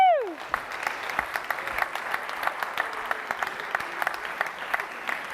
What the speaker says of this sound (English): can we give them a round of applause and thank them for their hard efforts